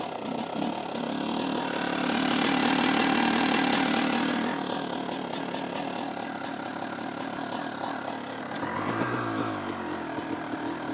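A vintage two-stroke motorcycle from a barn collection, long unused, fires up and runs with a raspy, buzzing rev that swells, then settles into an uneven rapid idle, close and loud.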